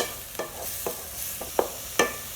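Spinach for palak keerai poriyal is stir-fried in a pan, with a steady soft sizzle broken by about five distinct scraping stir strokes at a moderate, uneven rhythm, close and without talk.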